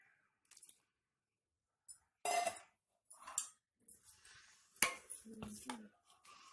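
Semolina stirred into warm milk in a bowl for malpua batter: intermittent clinks and scrapes of a spoon against the bowl, close and fairly quiet, with gaps of silence between strokes.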